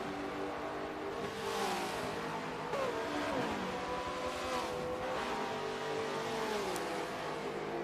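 Supercars race cars circulate at speed, several engines revving and rising and falling in pitch as cars pass and shift gears, loud and continuous with overlapping passes.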